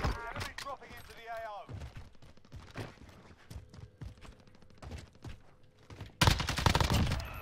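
Rapid gunfire from a Warzone match with an AUG 5.56 class setup, with repeated sharp shots and a dense, loud burst near the end, under intermittent talk.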